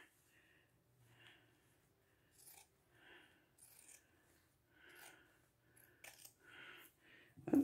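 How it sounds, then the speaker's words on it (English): Scissors snip and trim fabric for small sewn sachets, several soft, quiet cuts in an irregular rhythm with faint rustling of cloth in between and a louder knock at the end. "you can keep trimming till they're just the way you want them"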